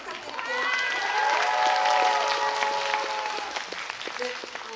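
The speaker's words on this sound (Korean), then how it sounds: "여러분 박수 한 번만 더 부탁드릴게요." A film festival audience at BIFF 2022 applauds in a steady, sustained wash of clapping with some cheering mixed in, while tonal shouts and voices rise above it.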